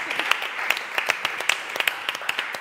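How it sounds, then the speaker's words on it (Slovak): A studio audience on a talk show claps in applause, a fairly close, brisk patter of many hands with sharper individual claps standing out, steady throughout. "Výborne, takže potlesk pre Anku."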